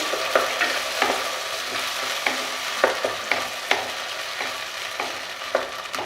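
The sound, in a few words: ginger and garlic paste being mixed and fried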